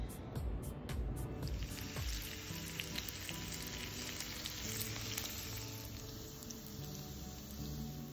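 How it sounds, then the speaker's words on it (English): Pancetta crisps in its own rendered fat in a pan over low heat, a soft steady sizzle and crackle throughout, fairly quiet with no voices. "We just put it on low heat to start off with, and allows the fat to just melt, and then it will get all crispy in its own fat"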